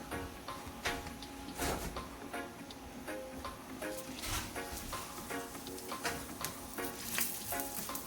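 Onions frying in hot oil in a pan while making a smoked herring dish, giving a steady, close sizzle with crackling pops and occasional stirring clicks throughout.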